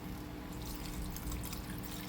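Water pours into a pan holding seared steak and scraped-up browned bits, a steady close hissing splash with faint dripping and no talking.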